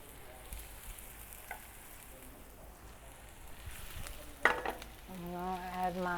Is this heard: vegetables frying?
yes